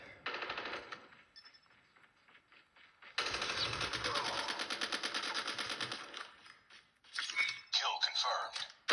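Rapid automatic gunfire from a shooter game played on a Moto G10 phone, bursts of clattering shots with short gaps and a loud stretch in the middle, with a voice speaking over parts of it.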